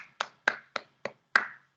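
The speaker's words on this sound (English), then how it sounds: "applause for everybody" Five sharp, evenly spaced claps or snaps ring out close by in a quiet room, each with a short decay; a thin, sparse stand-in for a class applauding after oral presentations.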